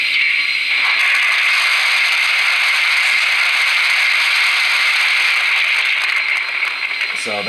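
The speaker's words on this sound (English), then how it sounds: "So that was the sound of coal loading into the little coal bin back there." Coal-loading sound effect from a Lionel LionChief Plus 2.0 Santa Fe 0-6-0T #95 model locomotive: a steady crackling, rattling hiss like coal pouring into a bin, close and loud from a small speaker, with a brief voice at the very end.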